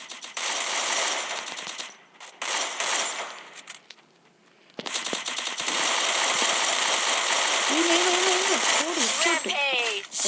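Rapid gunfire and bursts of shooting in the Free Fire Max mobile battle game, loud and dense, broken by a short quiet gap. A player talks over it throughout.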